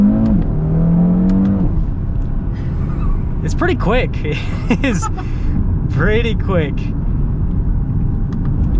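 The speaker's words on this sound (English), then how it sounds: "Obviously it's a 5-cylinder, it's right in between, but it definitely sounds weird." An Audi RS3's turbocharged five-cylinder engine accelerating, a steady droning rumble heard from inside the car beneath two people talking.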